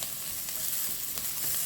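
Onion and bell pepper stir-fry in a hot pan with chili oil, giving a continuous close sizzle with faint scraping of stirring, steady and fairly quiet throughout.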